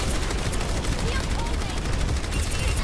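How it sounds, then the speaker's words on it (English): Turret fire in the video game Overwatch, a continuous, loud stream of rapid shots with other game effects and voices mixed in throughout. "My turret's on the card and been shooting into their spawn."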